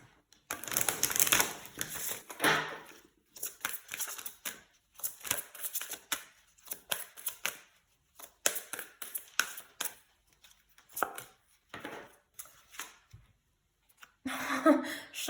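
Tarot cards being shuffled and drawn, with a run of crisp riffling and slapping bursts broken by short pauses, close and fairly quiet, with no talking.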